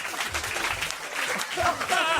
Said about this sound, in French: arrêtez d'applaudir. Vous avez applaudi sur Postron.